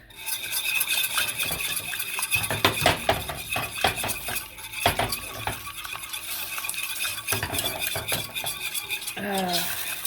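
Metal whisk scraping and clinking rapidly against a pan as gravy is whisked, steady busy rhythm of stirring with occasional sharper taps, close and fairly loud.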